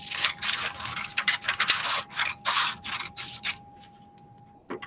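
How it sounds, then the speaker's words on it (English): Scissors cut along a solid line on paper, a run of close, brisk snipping and rasping strokes in quick succession before trailing off into near quiet with a faint steady tone beneath. "with your scissors, we're going to cut right along the solid line"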